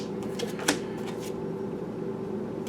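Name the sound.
shuffling oracle cards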